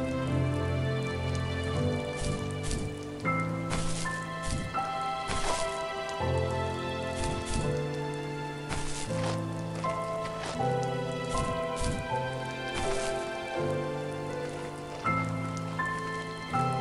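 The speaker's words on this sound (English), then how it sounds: "And it's raining." Rain falls in the video game The First Tree, a steady patter running the whole time beneath sustained, shifting musical tones.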